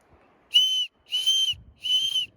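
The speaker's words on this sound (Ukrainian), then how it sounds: "Є свисток, який реально працює та підійде для подачі сигналу або відлякування тварин." A tactical watch's built-in whistle, a Besta Military model, sounds three shrill blasts of about a third of a second each, loud and close with short gaps between them.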